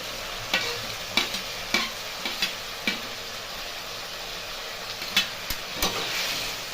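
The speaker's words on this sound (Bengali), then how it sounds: "আলুটা কষে নেব" Potatoes frying in oil with spice masala, a steady sizzle with a run of sharp spoon-scrapes against the pan as they are stirred, close and moderately loud.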